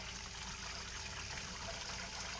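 Water trickles steadily through a kitchen strainer onto grain during fly sparging for an all-grain homebrew IPA, a soft, continuous dribbling wash that stays even and close, with no talking.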